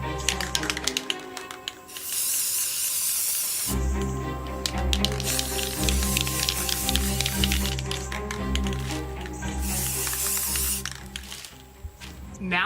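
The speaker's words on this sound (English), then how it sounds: "get some spray paint on" Steady hiss of an aerosol spray paint can running for long stretches while painting a dollar-store candlestick, with a brief pause and tapping sounds between bursts.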